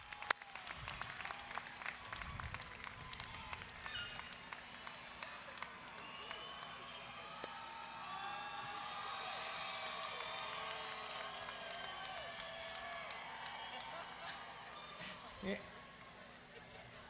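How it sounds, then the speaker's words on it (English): A large audience applauds new bachelor's graduates at a 2018 morning commencement ceremony, sustained clapping rolling through a big hall with scattered cheers and whoops, loudest in the middle and tapering off at the end. "as we applaud your efforts."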